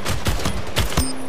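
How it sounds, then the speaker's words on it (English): Rapid gunfire from a video game shooter, Splitgate: a quick burst of about five loud, close shots in uneven rhythm, with no talking over them. "I hear gunshots."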